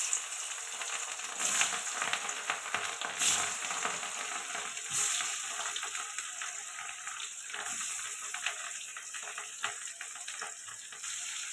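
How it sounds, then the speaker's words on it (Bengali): Fish sizzles in hot oil in a wok, a steady hissing fry heard close and alone, with a few brief clinks of utensils against the pan. "মাছটা কড়াই দিয়ে দিলাম।"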